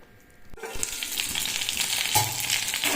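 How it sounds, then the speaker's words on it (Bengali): Ready-to-fry evening snacks sizzle in hot oil in a pan, a steady close crackling hiss that swells after a brief quiet start and carries on without talk. "দেখো ইভিনিং স্ন্যাক্সের জন্য আজকে একটু এগুলো ফ্রাই করছি ওই রেডি টু ফ্রাই"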